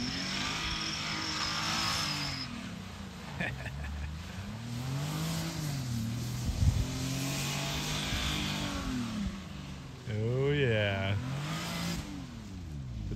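A Hyundai car revs repeatedly while spinning donuts in wet snow, its engine rising and falling in long swells with a sharper burst of revving near the end, fairly close amid outdoor noise.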